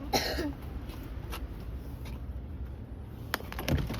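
A child coughing indoors at home, with one short burst of coughs near the start and a smaller one near the end, close but fairly quiet over a faint room background.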